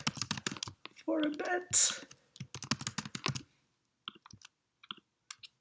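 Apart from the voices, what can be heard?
typing on a computer keyboard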